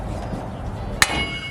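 One sharp metallic clang from a hammer strike during a suspension kit install on a 1999-2006 Chevrolet Silverado rings out briefly over quiet background noise, leaving a short ringing tone.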